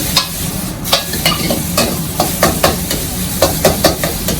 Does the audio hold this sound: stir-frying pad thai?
yes